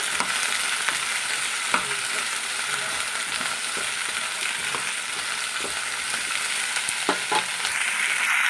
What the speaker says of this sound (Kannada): ಸ್ವಲ್ಪ ಇದನ್ನು ಇದು ಸ್ವಲ್ಪ ಆಯಿಲಲ್ಲಿ ಫ್ರೈ ಆಗಬೇಕಾಗತ್ತೆ